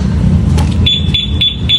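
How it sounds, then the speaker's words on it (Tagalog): A Suzuki Raider Fi motorcycle's two-way alarm system gives a high electronic tone in short repeated chirps, close and loud over a low engine-like rumble. "Pag tumunog yan mga sir, matik naka-alarm na."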